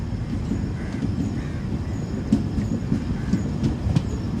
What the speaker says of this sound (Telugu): అటు సైడ్ నుంచి ఒక ట్రైన్ వెళ్తుంది